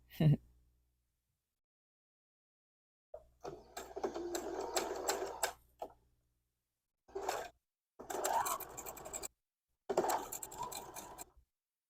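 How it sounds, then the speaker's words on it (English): Domestic sewing machine stitching rows of a diagonal nine patch quilt block together with nested seams, running in several separate bursts of steady whirring with pauses between them. "So next we will stitch the rows together."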